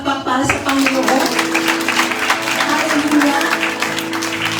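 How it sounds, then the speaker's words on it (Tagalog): A church congregation applauds together in a dense, sustained round of clapping that runs at steady loudness throughout, with faint voices mixed in. "Isa pa pong palakpak para sa Panginoon"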